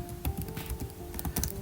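Computer keyboard typing: a quick, uneven patter of soft key clicks close by, short bursts of taps with no talking.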